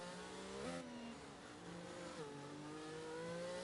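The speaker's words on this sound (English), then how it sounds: "As you just hear a nice little short shift down" Race car engine in a sim racing league event at Miami, revving steadily with a quick downshift blip and sustained high-pitched drone, loud and continuous with no talk.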